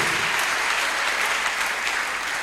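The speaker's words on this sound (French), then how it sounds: "Acclamez grandement pour le Seigneur Jésus-Christ." A church congregation applauds loudly and steadily in praise of Jesus Christ, a dense unbroken wash of clapping at close range with no voices over it.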